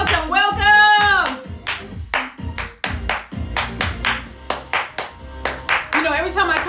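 A host claps her hands in a rhythmic series of sharp, close claps, loud and distinct, alternating with her speaking voice.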